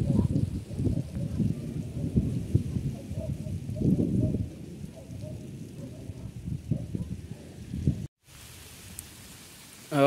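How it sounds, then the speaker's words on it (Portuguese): Heavy rain pours in a rural backyard in the dry backcountry, a dense crackling wash with drips splashing down from the roof gutter, loud at first and then softer. It stops abruptly near the end. "Sergipe velho tá caindo água com força."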